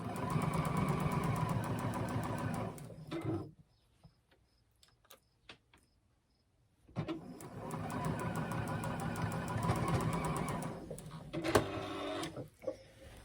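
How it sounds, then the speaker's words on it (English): A sewing machine stitches the mitered corner of a quilt binding in fast, loud, steady runs, stopping for a few seconds of quiet with light clicks before the stitching resumes. "here I am just sewing the miter corner, removing my pins as I go"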